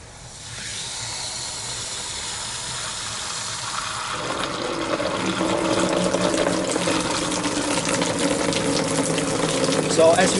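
Water pumped through a tube section in a fluid experiment starts as a soft hiss, then swells into a louder, steady gushing flow about midway that continues to the end.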